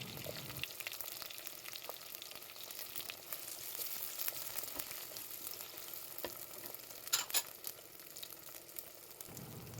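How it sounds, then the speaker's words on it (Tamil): Small and large onions sauté in hot oil for a Pondicherry-style fish curry, making a steady, soft crackling sizzle up close, with a few brief louder stirring scrapes and no voices. "இது கூட இப்போ பெரிய வெங்காயத்தையும் சேர்த்து ஆட் பண்ணி வதக்கி விட்டுக்கலாம்"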